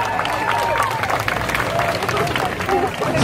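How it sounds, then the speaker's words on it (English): A crowd at a Brooklyn pizza eating contest claps and cheers for a contestant, a steady dense roar of applause with voices mixed in throughout. "give him another round of applause"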